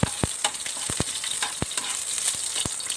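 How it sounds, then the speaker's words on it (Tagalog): Garlic sautés in a little oil in a pan, giving a steady sizzling hiss broken by several sharp crackles and pops, with no voices. "Gisa natin yung mga ingredients."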